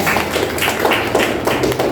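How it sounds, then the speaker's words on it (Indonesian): Students clapping together in a classroom, a rhythmic run of close, loud hand claps in quick succession without talk. "Tepuk tangan untuk kita semua."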